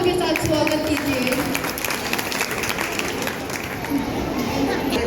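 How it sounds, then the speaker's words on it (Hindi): Applause from an audience welcoming a speaker at a Mothers Day school celebration at Handa Public School, a steady dense clapping wash filling the whole stretch, with crowd chatter mixed underneath. "जोरदार तालियों के साथ स्वागत कीजिए।"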